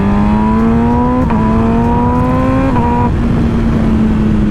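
A 2023 MV Agusta Brutale motorcycle engine accelerates hard and close, its pitch climbing through several quick gear shifts with a loud, strained whine.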